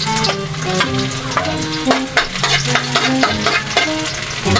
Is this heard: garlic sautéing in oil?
yes